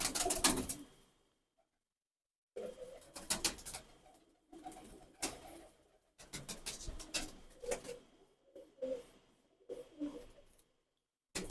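Pigeons, including old black birds, cooing in a breeder's loft, with soft throaty bursts repeating in clusters and brief quiet gaps between them, close and fairly faint.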